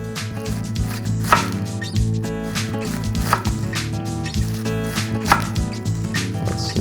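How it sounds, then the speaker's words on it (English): A knife chops through cabbage for a casserole layer with a steady rhythm of close, crisp cuts about every half second, over a continuous background hum. "I'm just going to cut this cabbage in almost like you were doing coleslaw"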